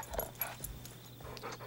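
A dog gives soft, brief whimpers and small yips in a quiet indoor setting, faint and broken into short bursts over a low hum.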